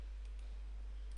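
A computer mouse being right-clicked during CAD modelling work in CREO 6.0, giving a few faint, soft clicks spaced apart over a quiet background.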